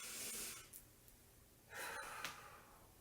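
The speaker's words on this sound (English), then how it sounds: "Take a deep breath." A slow, close inhale followed after a pause by a second soft breath in, quiet and airy with nothing else around it.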